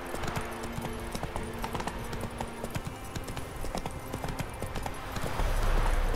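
Horse hooves trotting along a road in the fantasy game The Witcher 3, a steady rapid clip-clop rhythm that stays close and even throughout.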